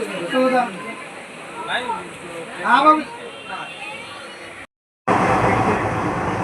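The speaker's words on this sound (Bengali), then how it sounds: "ট্রেনটা পুরো ফাঁকা যাচ্ছে" Interior of a moving, nearly empty train on a trip to Digha, a steady rumbling carriage noise under someone talking, then a brief dropout and a louder rush of travel noise.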